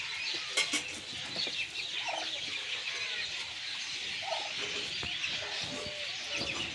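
One-month-old Chinese Muscovy duckling chicks calling on a farm, faint scattered peeps and soft clucking notes over a steady background hiss, a little distant.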